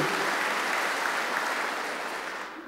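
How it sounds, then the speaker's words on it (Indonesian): A church congregation applauds during a worship service. Thick, continuous clapping sounds close and loud, then fades toward the end. "Tepuk tangan buat Tuhan Yesus saudaraku."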